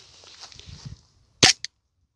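An airsoft pistol fires at a 5 mm PETG plastic plate printed at 100% infill, giving one sharp crack followed by a smaller tick a moment later, after a soft low rustle and then a short silence.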